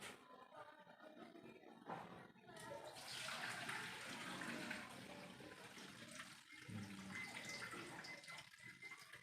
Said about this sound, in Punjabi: ਚਾਵਲ ਅਸੀਂ ਧੋ ਕੇ ਰੱਖੇ ਸੀਗੇ, ਅਸੀਂ ਇਹਨਾਂ ਦਾ ਪਾਣੀ ਕੱਢ ਦਿੰਦੇ ਹਾਂ।